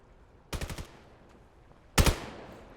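Gunfire in a 1v1 competitive shooter video game match, where headshots land: a quick burst of four rapid shots, a second of quiet, then a louder, closer volley of shots with a short ringing tail.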